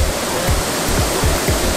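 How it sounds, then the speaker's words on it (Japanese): Waterfall pouring right in front of a cliffside cafe in Bali, a steady close rush of falling water filling the scene, with no talk over it. "見て、目の前に滝がある。"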